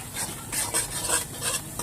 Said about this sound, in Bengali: কালারের জন্য কাশ্মীরি লঙ্কার গুঁড়ো দিয়ে আমি মশলাটাকে সামান্য কষিয়ে নেব